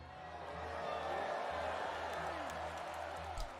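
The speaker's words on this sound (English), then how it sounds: "You hear cries of joy, a hum of approval, and applause." Crowd noise from the video game The Life and Suffering of Sir Brante, with common folk in a temple square giving a steady, fairly faint wash of cheers, approving hum and applause that holds for several seconds with no one talking.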